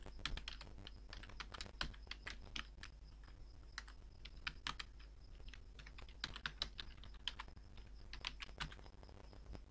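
Fingers tap out an email ID on a computer keyboard in quick, irregular clicks with brief pauses, the keystrokes close and fairly quiet over a low steady hum.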